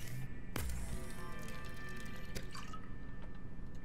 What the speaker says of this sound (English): I'll just drink some water as well.